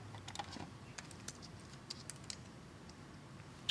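Computer keyboard typing while connecting to a Raspberry Pi, quick irregular clicks of keys, soft and close, with a sharper final tap and no voices.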